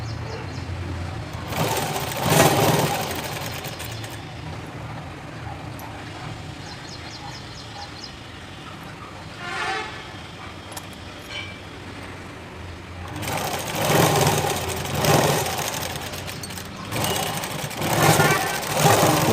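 A sewing machine stitches along the edges of a blouse, running in loud, rapid mechanical bursts near the start and again steadily toward the end, with a quieter stretch of low clatter in between.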